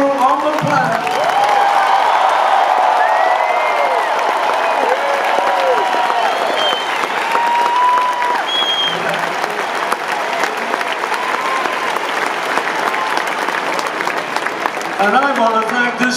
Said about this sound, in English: I want to hear a big round of applause for the best crew on the planet.